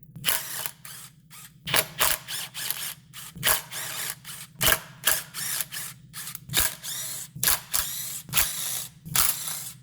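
A ratchet wrench loosens a nut on a 2013 Dodge Grand Caravan during lower oil pan replacement, giving repeated sharp clicking bursts in uneven runs, close and fairly loud over a low steady hum, with no talking.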